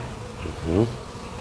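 Honey bees buzz at an open hive in a short, close burst, one bee's drone swelling briefly above a faint background hum.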